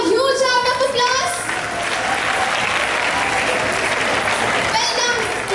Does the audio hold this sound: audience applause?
yes